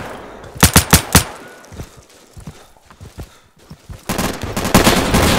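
Gunfire in the video game Insurgency: a quick burst of four loud shots, then scattered softer thuds and footsteps, and a rising rumble of distant firing at the end.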